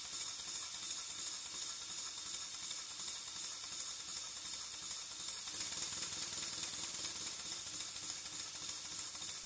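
A model Pennsylvania A3 switcher steam locomotive runs steadily, giving off a continuous bright hiss with fast, even mechanical ticking beneath it. No one speaks.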